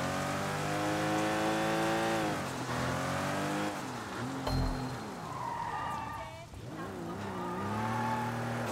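Car engine in Sleeping Dogs revving up and down through gears, with sharp tire squeals and skidding midway, steady and fairly loud within the game's sound.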